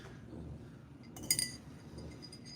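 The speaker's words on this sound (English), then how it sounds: "So I will use these little tiny spoons to stir." Tiny mica-powder spoons stirring in a cup, a short cluster of bright glassy clinks around the middle, quiet and close against a faint background hum, with no talk.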